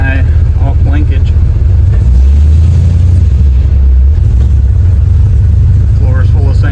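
A car with an LS engine swap and factory shifter revs and accelerates over a sand-covered floor, a loud, close engine rumble that swells and holds for a few seconds before easing off.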